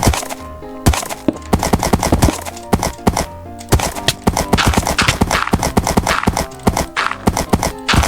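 Horse hooves clip-clopping in the video game Minecraft during a survival journey: loud, close, rapid hollow clops in a fast galloping rhythm throughout, with occasional sharper knocks and no talk over them.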